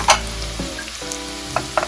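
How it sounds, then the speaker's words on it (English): Garlic and raw sesame seeds sizzle in hot oil, a steady close crackle with a sharp pop near the start and a few more spits toward the end, with no talk over it. "we are going to add garlic to the oil, and with the garlic we are also going to add the raw sesame seeds so that we can roast them a bit"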